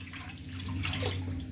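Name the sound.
water being poured into a pressure cooker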